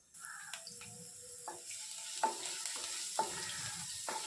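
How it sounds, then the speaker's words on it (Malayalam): Finely chopped garlic fries in hot coconut oil in a kadai, giving a quiet sizzle broken by several spoon scrapes and knocks against the pan, close by with no voices. "വെളുത്തുള്ളി ചെറുതായിട്ട് അരിഞ്ഞത് ഒന്നര ടീസ്പൂൺ ചേർത്ത് നന്നായിട്ടൊന്ന് മൂപ്പിക്കാം"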